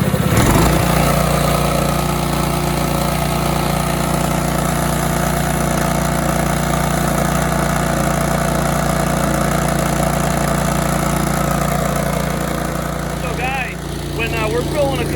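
An Alkin gas-powered air compressor runs steadily while filling an empty tank, a loud, close, constant engine drone with a low hum that holds evenly, and a brief voice near the end.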